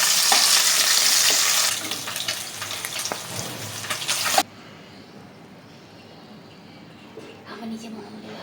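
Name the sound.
rohu fish frying in oil in a wok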